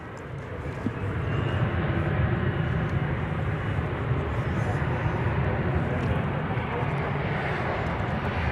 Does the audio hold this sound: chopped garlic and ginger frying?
no